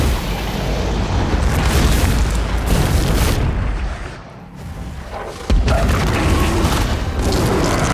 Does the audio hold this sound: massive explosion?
yes